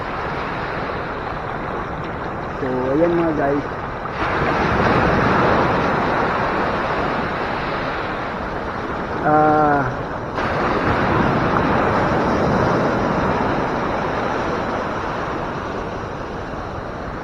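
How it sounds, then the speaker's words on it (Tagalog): Ocean waves wash onto a shallow beach in Zambales, a steady broad surf roar with wind noise and a boat's motor faintly beneath, while someone talks briefly over it twice. "Magandang panoorin lang yung alon,"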